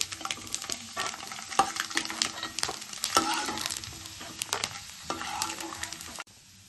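One cup of peanuts fries in hot oil in a pan for a flattened-rice snack mixture, crackling and sizzling up close, with stirring scrapes and clatter coming in bursts before it cuts off abruptly.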